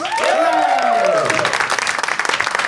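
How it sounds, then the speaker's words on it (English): A bar audience at a live podcast recording bursts into applause, opening with a rising and falling whoop before dense, steady clapping fills the room close by. "I give them a big round of applause above the stage."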